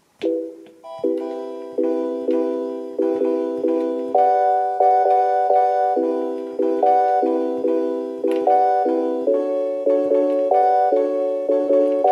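Sustained synth pad major seventh chords change roughly every second, warm and full, moving through a steady chord progression with no voices.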